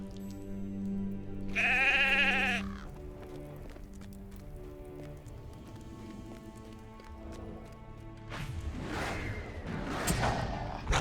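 A sheep in Lord of the Rings Online lets out one loud, close bleat, then soft clip-clopping hooves and footsteps follow, and a busier burst of game sounds comes near the end.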